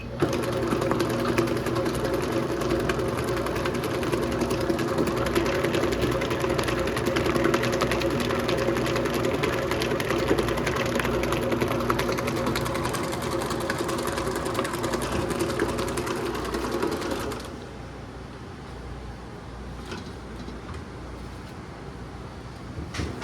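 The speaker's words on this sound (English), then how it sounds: "We're basically just trying to beat all the lumps out from the cream cheese." An electric mixer beats cream cheese for a no-bake cheesecake with a steady, close motor whir and rattle. It runs continuously for about seventeen seconds, then drops to a quieter hum.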